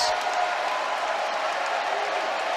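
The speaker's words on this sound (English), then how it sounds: "This Fieldhouse crowd trying to end it" Women's college volleyball fieldhouse crowd at a Wisconsin vs Rutgers match, a steady wash of cheering and applause filling the arena with no pauses, loud and continuous throughout.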